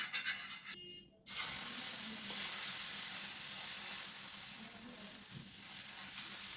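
Dosa batter sizzles loudly and steadily on a hot, oiled tava over a gas flame, a dense continuous hiss that starts sharply after a brief quieter moment and holds without talk.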